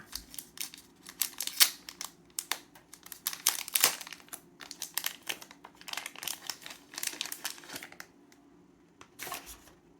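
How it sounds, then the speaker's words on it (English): A plastic bag crinkles and rustles in close, irregular bursts as a DJI Osmo Action 4 camera is unboxed and slid out, with sharp crackles scattered over a soft steady hum. "I took the top off the plastic bag and I slid the camera out of the bag."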